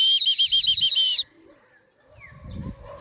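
A pigeon chirps rapidly in a short burst, then wings flutter briefly as it takes off, followed by soft rustling.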